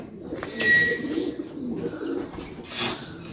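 Pigeons on a small pigeon farm give soft, low coos in a muffled indoor setting, with a few light chirps.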